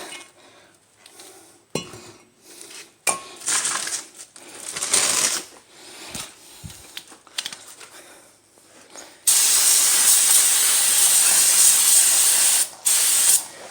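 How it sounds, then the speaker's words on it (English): Brake cleaner hisses from an aerosol can onto rusty front brake parts of a 2010 Kia Soul, first in short bursts among light clinks, then one long loud continuous spray before a brief pause and more spraying. "Brake cleaning."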